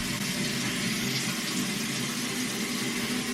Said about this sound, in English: let me turn off the water